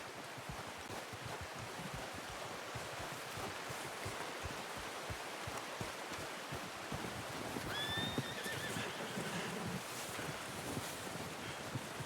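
A horse whinnies faintly amid a steady windy, rushing background, with soft hoof thuds running throughout, in the video game Red Dead Redemption 2.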